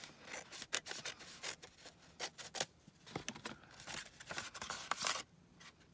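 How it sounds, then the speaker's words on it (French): Rapid, repeated snips of scissors cutting through material, crisp and close, with irregular rustling between cuts and no speech. "Attendez, je vais prendre mes ciseaux."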